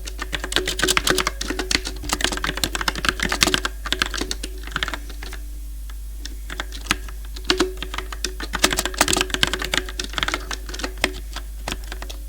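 Steady fast typing of code on a computer keyboard, dense rapid key clicks with brief pauses, close up over a constant low electrical hum, no speech.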